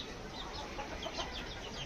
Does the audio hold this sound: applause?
no